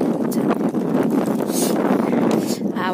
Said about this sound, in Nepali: लास्टै लास्टै हावा चलेर